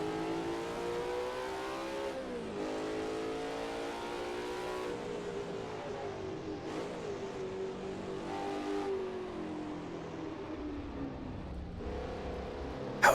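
Race car engine on a track sings at high revs, then drops through blips and rising pitch sweeps as the driver downshifts into second under braking, loud and continuous inside the car.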